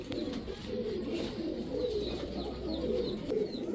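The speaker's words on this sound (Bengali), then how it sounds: "এ হচ্ছে white Hungarian high flyer Budapest, একটা নর কবুতর" A male White Hungarian High Flyer Budapest pigeon coos in a loft, soft rolling coos repeating close by over a steady background hum, with no one talking.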